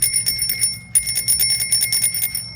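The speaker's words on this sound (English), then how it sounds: "bicycle bell." Classic-sounding bicycle bell on a Magician Alpha electric bike, rung in a rapid series of bright metallic dings, close and clear without talk.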